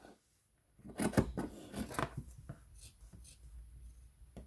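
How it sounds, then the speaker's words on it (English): Scissors snip into the corners of a sewn cloth pad, close to the stitching: a few crisp, close cuts in quick succession, then quieter fabric handling. "I would also suggest snipping in as close as you can to the corners without cutting the stitching"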